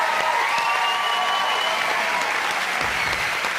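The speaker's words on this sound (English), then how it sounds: "I think we deserve a little round of applause" A television studio audience at a live talent show results broadcast bursts into loud, sustained applause with some cheering, a dense continuous roar of clapping from a large crowd.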